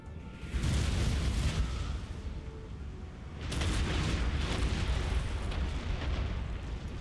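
Deep booming cannon blasts in the video game Napoleon: Total War roll out in two long, heavy bursts, loud and rumbling, with a dense low-end roar that lingers.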